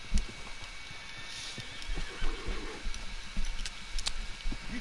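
Horse hooves clip-clopping in the video game Red Dead Redemption 2, an uneven run of near, dull thuds with a brief whinny early on, over a faint background hiss.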